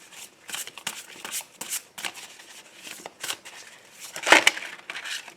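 Aloha oracle cards being shuffled by hand for a reading, crisp repeated riffling and sliding bursts of cards, close and fairly quiet, with no voice.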